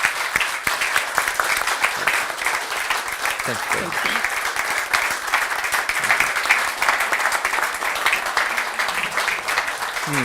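Warm, sustained applause from an audience honoring a professor at an academic event fills the space in a dense, even patter, while a voice briefly offers thanks over the clapping.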